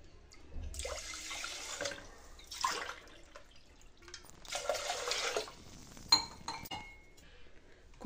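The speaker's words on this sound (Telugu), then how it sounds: "అదే గ్లాస్తో 2 గ్లాసెస్ వాటర్ని యాడ్ చేసుకోవాలండి." Water is poured from a glass into a pressure cooker holding rice for kheer, with splashing bursts of pouring separated by quiet gaps and a few light clinks of glass against metal, close and soft.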